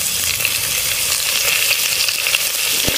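Curry leaves and dried chillies sizzling in hot oil for a village-style fish curry, a loud, close, continuous crackling hiss with no voices.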